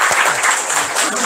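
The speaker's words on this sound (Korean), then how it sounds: "큰 박수 부탁드립니다." An audience at a lecture on farmland pensions breaks into dense, loud applause that carries through the whole moment.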